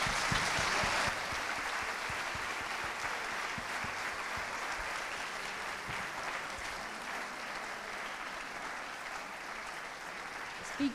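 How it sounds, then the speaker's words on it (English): Audience applause after a university talk, a sustained even roar of many hands clapping throughout, steady and moderately distant. "A big applause."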